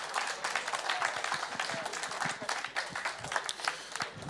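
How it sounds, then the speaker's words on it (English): Audience applause at the World of Tanks esports season finals, a sustained crowd clapping with scattered sharp claps and some cheering, fairly steady throughout. "a round of applause as well for Virtus.Pro"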